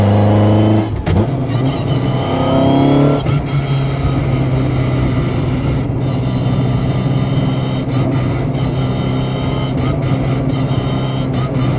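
A sports car engine revs hard near the mic, pitch climbing and falling in bursts before settling into a steady, loud rumble.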